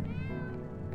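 A single short meow from a cat in the video game Cats and the Other Lives, close and clear over a low sustained game music drone.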